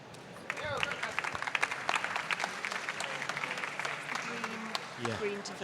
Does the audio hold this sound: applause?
yes